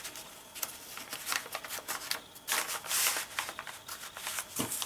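Paper envelopes and greeting cards rustling and crinkling as they are tucked into a small gift bag, a continuous close shuffling with brief crisp bursts and no speech.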